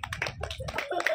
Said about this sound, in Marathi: छान टाळ्या वाजवा. स्वरासाठी टाळ्या झाल्या पाहिजे ते. टाळ्या वाजवा.